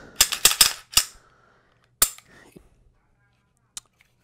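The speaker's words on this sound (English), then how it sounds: "So first off, I'm gonna clear this gun." An Arex Delta Gen.2 handgun being cleared and unloaded gives a quick cluster of sharp metallic clacks and racking snaps up close, then a single loud clack and a few sparse later clicks.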